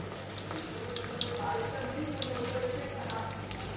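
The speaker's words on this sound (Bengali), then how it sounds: "একটা একটা করে কাঁকরোল গরম তেলে ছেড়ে দেব" Spiny gourd coated in gram flour batter frying in hot oil, a close, continuous bubbling sizzle with small crackles and soft clicks, steady throughout without speech.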